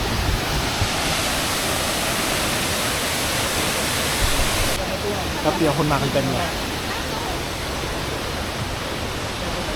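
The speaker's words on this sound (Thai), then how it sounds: "จริงมันสวยนะฮะ เป็นน้ำตก" Steady broadband roar of a waterfall at a scenic viewpoint near Sendai, constant rushing water filling the scene while people talk over it.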